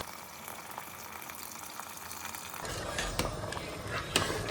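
Water pours into a cooking pot of rajma (kidney beans) being readied for pressure cooking, a sudden rushing, bubbling fill that starts partway through and grows louder, close by and alone.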